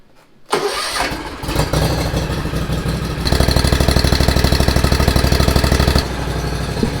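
A Hustler Raptor SD zero-turn lawn mower engine cranks and catches at once, then runs loud and close with a steady rhythmic chug that rises in pitch briefly before settling back to a strong idle.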